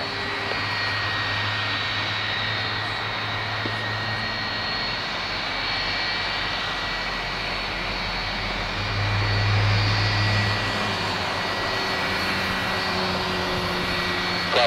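A Thomson Boeing 757-200 takes off at Madeira Airport, its jet engines making a steady, fairly distant roar that swells slightly toward the end.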